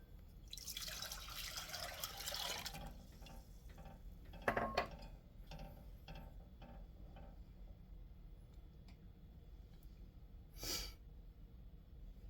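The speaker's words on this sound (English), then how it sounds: "Now I like to use hot water because it makes the boiling process go faster." Hot tap water splashing into a cooking pot, with a loud gushing burst early on, then scattered drips and clinks of the pot, and a brief second splash near the end.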